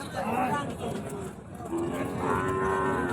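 Cattle, including Deshal and Sahiwal bulls, lowing at a livestock market near the Indian border, drawn-out moos heard over crowd murmur while someone talks.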